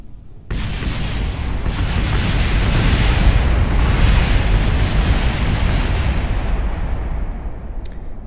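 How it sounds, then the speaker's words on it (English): A rocket explodes in Kerbal Space Program with a sudden loud blast that swells into a long, dense rumbling roar, sustained for several seconds before easing slightly. "here comes the explosion."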